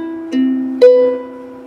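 Fingerstyle ukulele playing: two clear plucked notes ring out close and clean, each left to sustain and fade.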